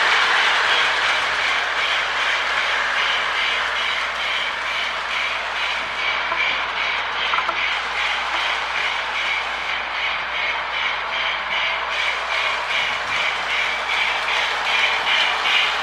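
A Lionel model train pulled by an 8904 locomotive, with a bay window caboose, rolls past close by on metal track, giving a steady rumbling whir with rhythmic clickety-clack from the wheels that lasts throughout, with no talking.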